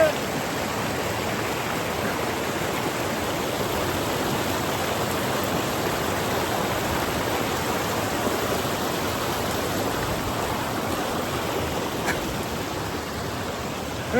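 A strong, constant rush of flowing stream water surrounds a hiker wading through a creek on a snowy spring trail, loud and close throughout with no break.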